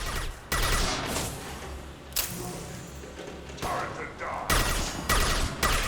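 Heavy weapons fire in the sci-fi shooter Mass Effect 2. Loud, dense bursts and booming blasts repeat in clusters over a continuous roar of combat.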